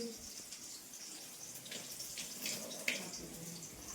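Tap water runs steadily in a home kitchen sink while hands are washed, a soft continuous hiss with faint splashes and one brief clink, fairly quiet throughout.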